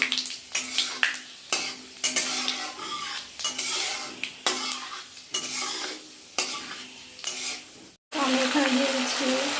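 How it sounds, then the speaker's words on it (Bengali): Spices for tempering crackle in hot oil in a pan, with oil spitting and a spoon scraping and clattering in bursts, then a loud, steady sizzle near the end. "এখানে দিয়ে দেবো ফোড়ন তেল ছিটকে পড়ছিল"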